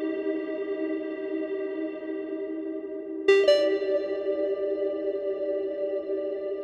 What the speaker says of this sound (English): you can kind of hear the freeze there, kind of latching on